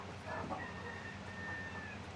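Backyard flock of chickens and roosters squabbling after a peck, with brief clucks and a faint, drawn-out call under steady outdoor background noise.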